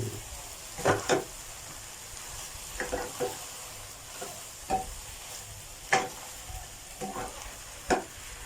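Mushrooms with onion, shrimp paste and holy basil stir-frying in a pan: a steady close sizzle broken by repeated scraping spatula strokes about once a second, with no talking.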